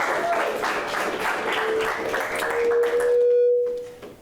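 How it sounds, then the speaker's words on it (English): Audience applause greets a speaker at a talk on legacies of colonization, a steady dense clapping that fades out near the end, with a faint feedback-like tone ringing through it. "So please give her a warm round of applause."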